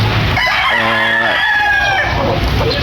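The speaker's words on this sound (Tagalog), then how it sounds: "Meron din tayong bull stag." A young rooster, a bull stag, crows loudly and close by in a backyard, one full drawn-out cock-a-doodle-doo rising and then trailing off, with faint clucking and farm background behind it.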